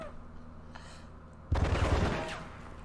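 Gunfire in the video game Die Hard Vendetta, a sudden loud burst of rapid shots and booms after a quieter stretch, close and dense, then tailing off.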